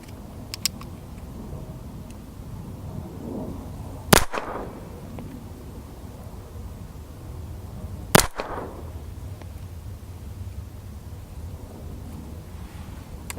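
A Phoenix Arms HP25A pistol fires two single sharp shots about four seconds apart, each a loud crack with a short ringing tail, over quiet outdoor background noise.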